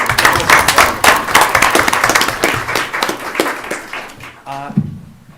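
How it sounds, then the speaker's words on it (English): Applause rings out for students at a school committee meeting, a loud, dense burst of clapping from the room that thins and fades near the end as a voice begins to speak. "another round of applause for every single one of those kids that got out there"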